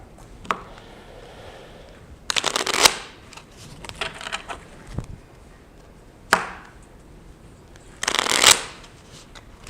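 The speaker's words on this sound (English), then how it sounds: "I have this great deck of cards. It's really great. I'm going to shuffle it up." A deck of playing cards is shuffled in several separate bursts, a brief riffle near the start and longer rapid flutters midway and toward the end, close and fairly loud, with quiet handling between and no talking.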